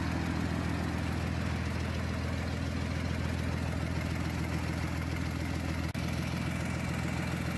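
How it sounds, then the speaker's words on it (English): An aircraft propeller engine idles during a warm-up run-up, a steady, loud, droning hum that stays even throughout with a brief dip near the end. "Now, the engine is in the idle throttle position, which means that the engine power is set only to warm up the engine."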